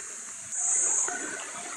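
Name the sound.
river water flowing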